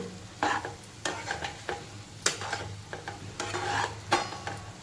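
Dry cauliflower curry being stirred in a pan, with several scraping, irregular stirring strokes over a quiet, low sizzle, close by and without voices.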